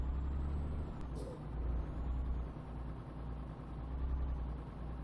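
A truck's air brake system in Euro Truck Simulator 2 gives a steady pneumatic hiss over a low, rumbling idling diesel engine, with a brief brighter burst of air about a second in.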